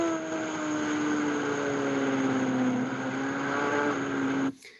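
A Suzuki GSX-R motorcycle engine on light throttle through a racetrack corner, a steady droning tone at fairly constant revs with wind rush, cutting off abruptly at the end.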